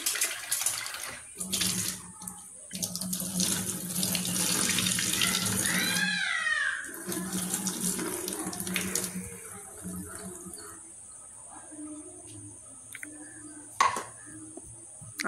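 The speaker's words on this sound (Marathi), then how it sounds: "हे बासमती तांदूळ मी 1/2 तास भिजवून घेतलेले होते. ते आता स्वच्छ पाण्याने धुवून घेऊयात" Soaked basmati rice is rinsed under running tap water in a kitchen, the stream splashing and gurgling loudly for several seconds, then stopping, leaving faint clinks and quiet handling sounds.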